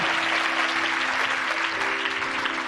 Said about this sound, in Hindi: तारीफ करो तालियों के साथ सब।